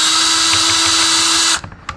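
A power drill whines steadily and loudly while working on the throttle body of a 2007–2011 Jeep Wrangler JK, then stops abruptly and clicks a few times as it winds down.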